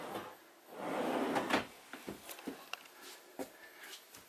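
A drawer in an Itineo MC740 motorhome is pulled open with a sliding rumble, then a string of short knocks and clicks follows as the lock knob is turned. The sounds are quiet and close.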